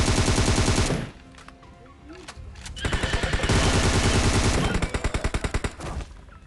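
Rapid automatic gunfire in an online shooter video game, loud bursts of machine-gun fire with brief pauses and sharp single shots, mixed with voices talking over the action.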